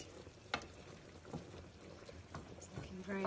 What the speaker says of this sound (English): Give it a bit of a stir, make sure it's all in the stock there, the gravy